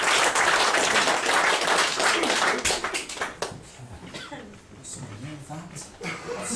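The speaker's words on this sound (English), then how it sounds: "Give him a round of applause as he makes his way towards the stage." A magic show audience claps for a volunteer walking to the stage: dense, loud applause with laughter for about three seconds, then thinning to scattered claps under a voice speaking.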